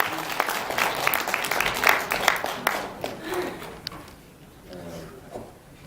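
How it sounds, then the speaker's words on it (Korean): Applause at an indoor press conference welcoming a speaker, a short burst of clapping from a modest audience that fades out after a few seconds into room noise and a voice. "큰 박수로 받아주십시오"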